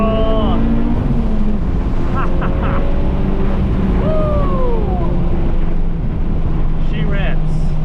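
Honda Civic Type R running E85 in a hard third-gear pull, its engine note sweeping upward in rising harmonics over constant loud wind and road roar heard from inside the cabin, with a brief voice partway through.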